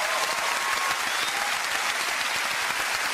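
A television studio audience claps loudly and steadily for a singer's performance on a British chat show, a dense, continuous wash of applause with no pauses.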